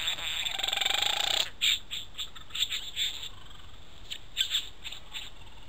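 A green bowerbird performs a noisy bottle-top dance: a harsh, continuous buzzy rasp for about a second and a half, then a series of short, scattered clicking rattles, close and fairly clear with no talking.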